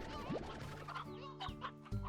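A rooster in the Slime Rancher video game gives a few short, close clucks, with other game sounds mixed in around them.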